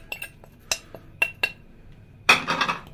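A fork clinks repeatedly against a bowl while stirring parsley and onion, giving several sharp metallic taps followed by a louder, denser burst of scraping clatter near the close.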